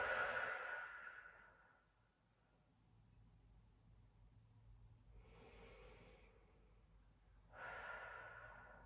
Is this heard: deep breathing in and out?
yes